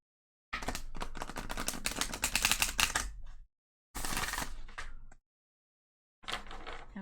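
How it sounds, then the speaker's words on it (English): An oracle card deck, the Starseed Oracle, is shuffled by hand in three bursts of rapid, crisp clicking and flapping, with a long run, a shorter one, then a brief final flurry, each separated by silence. "I'm going to shuffle this and I'm going to use the Starseed Oracle to start off."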